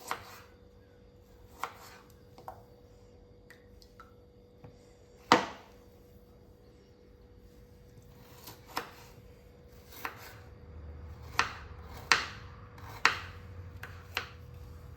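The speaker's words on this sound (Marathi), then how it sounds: "ही अशी कट करून घ्यायची आहेत अशी बारीक बारीक अशी कट करून घेणार आहेत" A knife finely chops raw potatoes on a board in sharp, irregular strikes, sparse at first and then quicker, close and fairly quiet.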